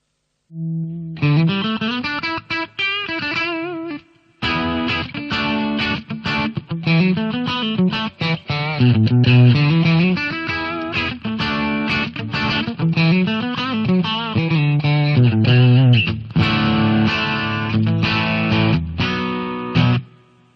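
Electric guitar played through a Boss GT-100 clean Fender Twin amp model, with chorus-like shimmer, strummed chords and melodic runs continuing loudly for about twenty seconds.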